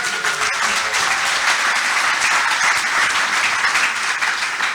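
An investor summit audience applauds steadily for about five seconds, dense and even with no speech over it.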